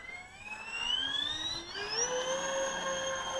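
The four brushless outrunner motors of a Freewing B-17 RC plane wind up in a rising electric whine. Several tones climb together and then hold a high, steady pitch.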